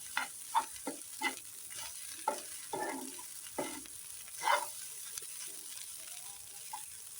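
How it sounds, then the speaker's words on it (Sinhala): Leftover rice and egg are stirred together in a pan, with scattered scraping strokes of a spoon over a faint sizzle. The strokes are close and fairly quiet, and no one speaks. "අපි බත් ටිකයි බිත්තර එකයි හොඳට කලවම් කරගන්න ඕන"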